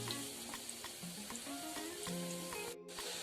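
Potato fingers deep fry in oil over a low flame, a faint, steady bubbling sizzle throughout with light clinks from a slotted spoon turning and lifting the pieces.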